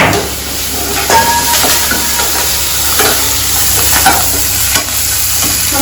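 Onions, ginger and garlic frying in oil in a pan for aloo samosa, giving a steady close sizzle with occasional stirring scrapes throughout.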